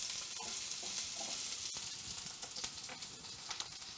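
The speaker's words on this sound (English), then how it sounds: "give them a quick stir." Summer vegetables browning in a frying pan sizzle steadily while being stirred, with scattered scraping and clicking of the utensil against the pan over a constant close hiss, no voices.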